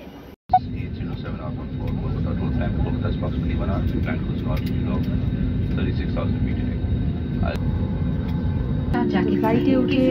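Airplane engines droning from inside a passenger cabin as the flight starts up, a steady low hum that rises after a brief click and holds throughout, with a faint tone joining near the end.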